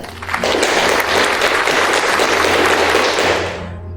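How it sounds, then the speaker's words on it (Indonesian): Loud, dense applause from an audience at a school Indonesian-language drama performance, bursting in abruptly, holding steady for about three seconds, then fading away. "mari kita beri tepuk tangan kepada para petinggi keadilan"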